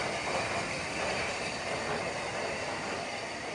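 Schools class steam locomotive Cheltenham at the Bluebell Railway during a Giants of Steam event, heard as a steady broadband rumble and hiss of the train running, continuous and fairly quiet with no voices.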